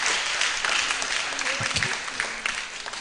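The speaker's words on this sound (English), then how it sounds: "we give you a clap offering" An audience at a symposium marking 140 years of the Sisters of Our Lady of Apostles claps for the Jesuit fathers present, a moderate, fairly steady round of applause with faint voices mixed underneath.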